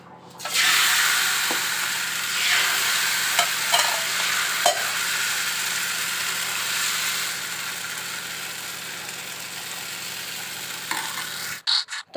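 Dosa frying in white oil on a hot tawa gives a steady, close, broadband sizzle that holds for about eleven seconds before cutting off abruptly near the end.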